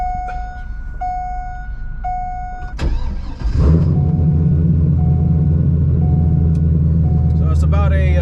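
A cammed C5 Corvette's engine turns over after a few steady warning chimes, then settles into a deep, loud, lumpy idle rumble close by, with someone talking over it.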